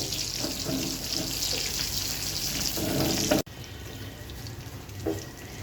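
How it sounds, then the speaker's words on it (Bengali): Fish cutlets fry in a non-stick frying pan with a steady, close broadband sizzle that cuts off abruptly partway through, then carries on more quietly with a few faint clinks. "আর এটা যদি আপনি একটু নন স্টিক ফ্রাই প্যানে ভেজে নেন তাহলে ভাজাটা অনেক সুবিধা হবে"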